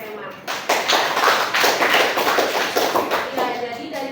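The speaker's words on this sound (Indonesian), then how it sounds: "beri tepuk tangan dulu untuk Emma" Classroom applause for a student, a burst of many hands clapping dense and close that starts abruptly and carries on steadily for several seconds.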